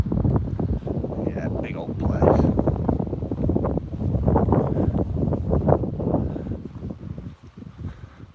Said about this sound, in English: Yep, got wind